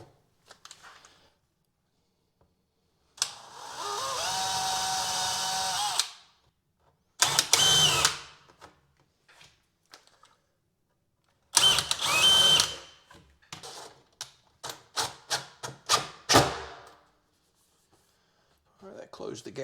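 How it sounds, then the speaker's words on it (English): Drill boring a pilot hole through a cabinet side and then driving a screw to clamp two laundry cabinets together in a barndominium build, heard as a sustained whir followed by several short bursts, close and fairly loud, with no talk. "then I can pre-drill a hole through this side, not go into this one, shoot a screw through and sandwich these together"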